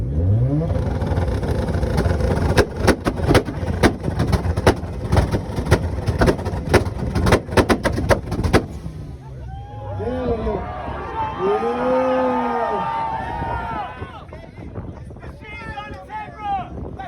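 A Mazda RX7 on a two-step launch limiter at an outdoor car meet competition in Loveland, Colorado, fires a loud rapid string of popping bangs for several seconds, then the engine revs rise and fall while a crowd shouts and cheers.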